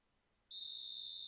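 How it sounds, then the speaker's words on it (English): A referee's whistle in an American football video game, one shrill sustained blast that starts suddenly and holds steady, loud against near silence. "we've got a whistle here and a timeout"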